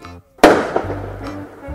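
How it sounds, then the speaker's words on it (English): Fireworks burst in a sharp, loud crack followed by crackling and a second smaller pop, set in an animated romantic scene; a low musical hum continues underneath. "Fireworks?"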